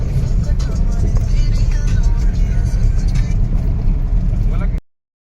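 Small car driving along a road, taken out after the bigger vehicle's tyre burst; a steady, loud engine and road rumble continues unbroken for about five seconds, then cuts off abruptly.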